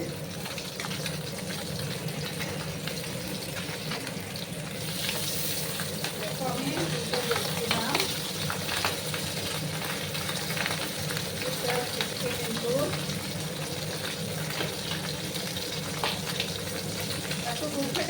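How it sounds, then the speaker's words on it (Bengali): Pabda fish fry in a pan with a continuous, even sizzle and crackle that holds steady throughout, with a voice faintly audible underneath. "একটা সাইড করে দেওয়ার পর আমি আরেকটা সাইড ভেজে নেব সাবধানে মাছগুলোকে ভাজতে হবে"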